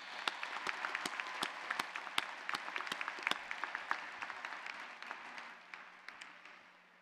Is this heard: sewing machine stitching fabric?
no